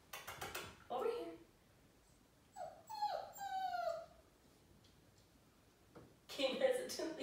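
A puppy whimpers and yelps in short high bursts at the start, middle and end, while a person speaks to it in between, coaxing it closer.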